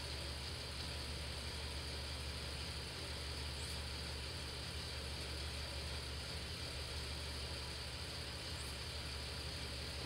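A car engine idles steadily during a DIY head gasket test, a constant low hum held at moderate level throughout without any speech.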